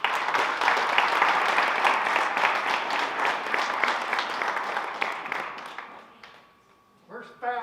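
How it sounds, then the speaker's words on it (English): A crowd applauds at a chamber of commerce community awards event, loud continuous clapping that gradually fades out before a voice begins speaking. "So a round of applause for Bob, please."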